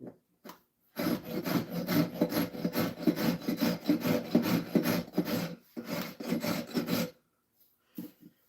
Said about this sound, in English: Farrier rasp. Love this thing.